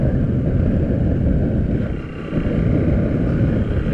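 Motorcycle engine runs steadily during a ride, a continuous low rumble mixed with wind buffeting on the microphone.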